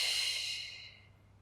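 A single soft breath pushes out during a Pilates mat workout, a close, airy exhale that fades to quiet within a second.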